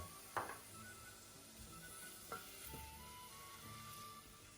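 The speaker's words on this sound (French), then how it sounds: "nous allons faire fondre une noix de beurre et un petit filet d'huile d'olive et y faire revenir notre échalote" Chopped shallot frying in a knob of butter with a drizzle of olive oil over medium heat, a faint steady sizzle with a few soft stirs and utensil taps close by.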